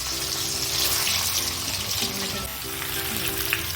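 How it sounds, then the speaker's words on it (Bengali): Continuous loud sizzling of boiled potatoes frying lightly in a pan, steady and close, with a faint tonal hum underneath. "আলুগুলোকে আমি একটু হালকা করে ভেজে নেবো"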